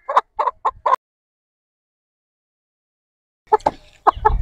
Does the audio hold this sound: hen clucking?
yes